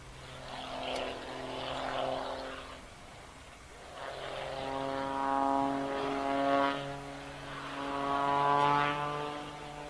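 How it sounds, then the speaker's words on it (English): An aerobatic propeller airplane roars overhead at an aerobatics competition, its engine droning and rising in pitch in waves as it climbs and turns, the propeller tips going supersonic, loud and fairly close. "it's actually from the propeller. The propeller tips are actually going supersonic."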